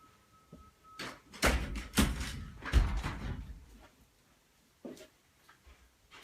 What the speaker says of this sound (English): let me just close this door, guys, give me a second.